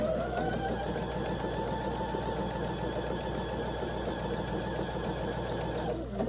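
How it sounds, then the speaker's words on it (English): A sewing machine runs steadily, stitching quilt block pieces for a watering can block, its fast even rattle close and continuous for several seconds before stopping, with no talk. "Looks like we're almost ready to stitch everything together."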